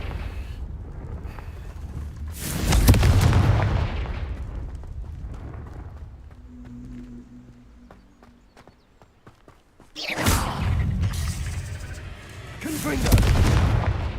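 A Confringo blasting spell from the video game Hogwarts Legacy goes off in two loud, booming bursts several seconds apart, with a quieter lull between them.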